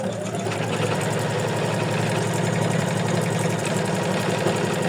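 Embroidery machine stitching satin stitches on an in-the-hoop bookmark, a steady rapid mechanical chatter with constant vibrating hum, close and even throughout, no voices.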